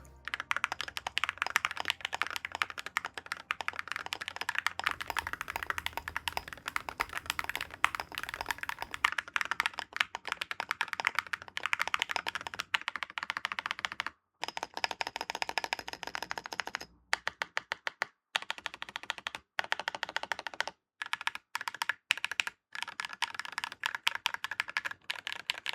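Typing on a stock magnetic-switch gaming keyboard with ceramic keycaps, close and crisp: rapid flurries of light, clacky keystrokes, dense at first, then slowing into scattered bursts separated by short pauses.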